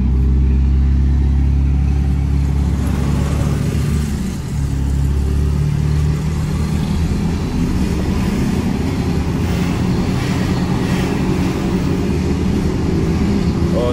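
A Troller TX4 drives and accelerates along a wide city avenue, its engine droning loudly and steadily throughout with a rising, straining note as it picks up speed, road and wind noise underneath.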